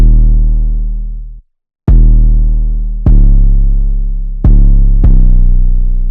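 Deep, booming 808 bass notes in a trap beat follow the chord root notes, each long note decaying slowly before the next sustained hit, with one brief gap of silence; loud and alone.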